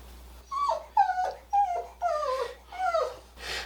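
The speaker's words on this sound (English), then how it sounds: "puppy sitting our mascot Howie, so that is who you are hearing in the background" Puppy named Howie whimpering and letting out short growls in a kitchen, a series of about five high, wavering whines spaced roughly half a second apart, moderately close.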